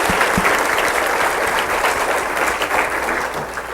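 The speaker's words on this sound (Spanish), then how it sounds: "Vamos a darle un aplauso al Rey de Reyes y Señor de Señores" A church congregation at a worship service breaks into sustained, dense applause. Many hands clap loudly and steadily in a reverberant room, with a few sharp low thumps near the start.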